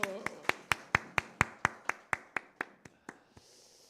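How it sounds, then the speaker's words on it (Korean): Congregation at a Korean Methodist Wednesday worship service clapping in unison, about fourteen sharp, evenly spaced claps that slowly fade and trail off into room ambience. "박수"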